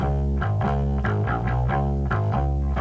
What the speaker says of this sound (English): There could be some type of distortion pedal